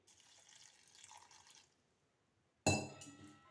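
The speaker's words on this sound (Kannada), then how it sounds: "ಸ್ವಲ್ಪ ವಾಟರ್ ಆ್ಯಡ್ ಮಾಡುವ" Water runs faintly into a mixer jar holding pumpkin skin chutney ingredients for about a second and a half. After a short silence comes a sudden loud clink of glass with a brief ringing tail.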